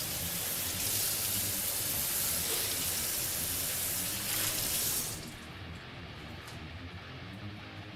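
Tap water runs steadily over a pot lid being rinsed in a kitchen sink while a vegan jambalaya cooks, a continuous splashing rush that cuts off abruptly, leaving a quieter room tone.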